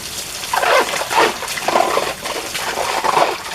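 Water splashes and sloshes in repeated bursts as containers are rinsed out after a homemade dish soap and vinegar test, close and fairly loud.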